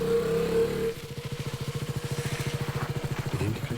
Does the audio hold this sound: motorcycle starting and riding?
yes